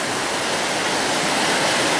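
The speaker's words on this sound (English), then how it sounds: "it's a very fast flowing river turret today, Andy" Fast-flowing River Turret rushing beneath a bridge, a dense, steady roar of turbulent water filling the whole clip, loud and close with no breaks.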